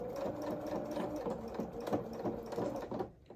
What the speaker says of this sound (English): we're just going to sew across this edge and reverse at the end